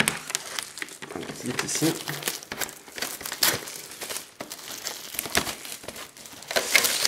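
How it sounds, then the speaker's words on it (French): Crinkly plastic of a Pokémon card blister pack being handled and torn open close by, with steady rustling and crackling throughout and a person talking over it. "on va ouvrir le blister"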